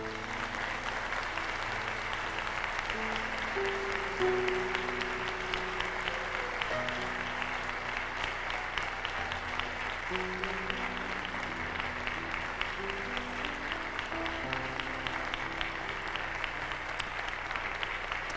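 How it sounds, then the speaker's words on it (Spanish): Sustained applause from a church congregation fills the space, steady clapping continuing throughout with faint music beneath. "Demos un aplauso al Señor."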